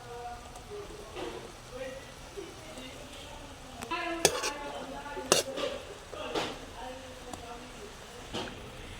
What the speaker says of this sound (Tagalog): Ilagay na natin ang pineapple chunk